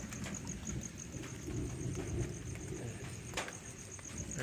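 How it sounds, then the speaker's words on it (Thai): Steady rain falling at night in rural countryside, a soft continuous wash of drops with faint insect or frog calls in the background, no talking. "ฝนมาเลยนะครับ ตอนหัวค่ำเนี่ย"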